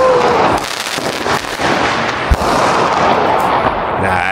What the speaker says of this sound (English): Fireworks. Nice.